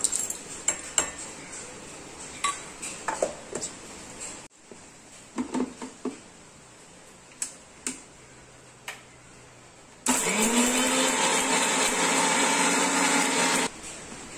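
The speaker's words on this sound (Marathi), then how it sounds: "आता हे मी आलं लसूण आणि खडा मसाला घेतलाय, लवंग, दालचिनी आणि काळी मिरी, हे वाटून घेते" A mixer grinder grinds ginger, garlic, cloves, cinnamon and black pepper into paste, a loud steady whirring roar lasting a few seconds, preceded by scattered clinks of kitchen utensils.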